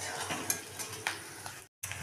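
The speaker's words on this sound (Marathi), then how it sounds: "कांद्याला सुद्धा छान असं चमच्याच्या साहाय्याने एकत्र करून घ्यायचा" Onions frying in a pan are stirred with a spoon, giving a soft sizzle punctuated by light scraping clicks and taps, quiet and close, with a brief silent gap near the end.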